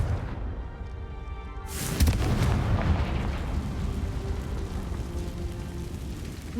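A Confringo spell explosion in the video game Hogwarts Legacy bursts loudly about two seconds in, followed by a rumbling, crackling blast that lingers and slowly fades.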